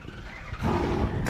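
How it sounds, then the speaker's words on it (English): Race car engines fire up at Road America for a TA2 series start, a low rumbling roar that swells abruptly partway through and holds loud and steady. "Drivers, start your engines."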